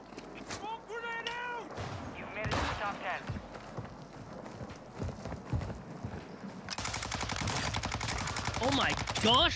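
Rapid bursts of rifle fire from the Cronen Squall in Warzone 2, sharp cracks spread across the clip with a dense sustained stretch near the end, mixed with game effects and a speaking voice.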